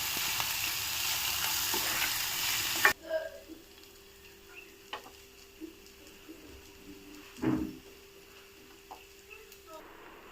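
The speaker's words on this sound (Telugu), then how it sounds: "ఇప్పుడు ఒకసారి మిక్స్ చేద్దాం. బాగా వేగాలి, ఇంకా పచ్చిగానే ఉంది." Ivy gourd (dondakaya) fry sizzles loudly in a pan for a few seconds. The sizzle then drops away to a quieter stretch of occasional stirring clinks and scrapes against the pan.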